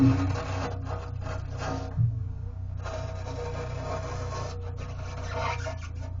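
Old silicone sealant scraped off aquarium glass, a steady close rasping scrape that runs continuously with brief pauses.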